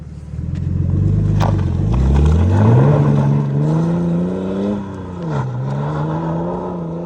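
A BMW E91 330d estate with a sports exhaust accelerates hard on the road, heard from outside: a loud, deep diesel drone rising steadily in pitch through the gears as it passes close by.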